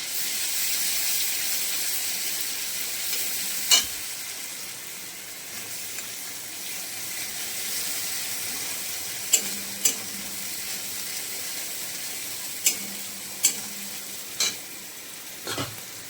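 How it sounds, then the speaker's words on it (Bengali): Cumin and ginger paste fries in a pan for a fish-head curry with taro, giving a soft, steady sizzle throughout, broken by a few sharp stirring clicks of a utensil against the pan. "এটা জিরা আদা বাটা দিয়ে এই আদা বাটাটা দিলাম।"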